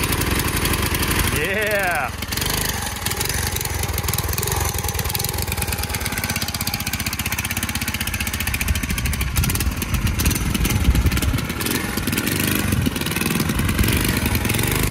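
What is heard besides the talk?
engine of abandoned 1980s MTD mini bike running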